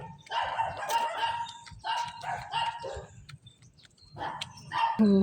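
A dog barks in short repeated bursts at moderate distance, the barks coming in clusters with brief pauses between them.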